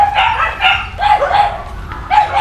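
A small puppy barks in repeated high yips and woofs at close range outdoors, in an uneven string of short bursts with faint background noise.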